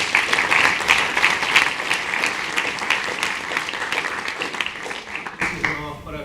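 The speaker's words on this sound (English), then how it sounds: "First of all, let's give a round of applause" Conference audience at a limb salvage lectureship applauds in a loud, dense burst that gradually thins out, ending with a brief pause before a voice and room noise resume.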